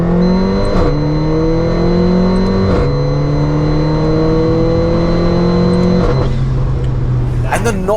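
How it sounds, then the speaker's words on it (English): A Weistec-tuned 450 hp Mercedes-AMG GLA45 with a Capristo exhaust revs loudly and close, its engine note rising and falling in several sustained pulls, with crackles at the end. "the noises that this car makes are absolutely insane. This Capristo exhaust is so dramatic"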